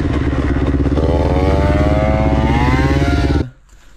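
A Honda CB 500 motorcycle exhaust revving loudly up close, a rough throbbing roar climbing in pitch and holding before cutting off abruptly near the end.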